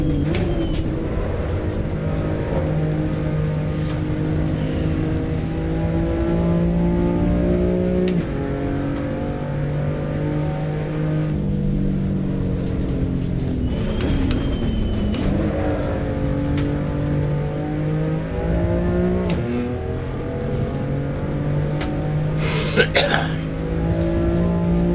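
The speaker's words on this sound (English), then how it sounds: "It's the BMW M2 CS, so the same car that's in iRacing." BMW M2 CS race car engine drones steadily, rising and falling in pitch as it revs up and shifts through gears. Loud and continuous, with occasional talk and a cough over it.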